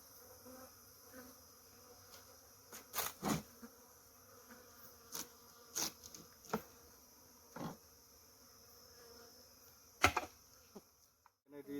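Honey bees buzzing faintly around a hive being cut out, a soft steady drone broken by sharp thuds and knocks from working the comb, with no talking.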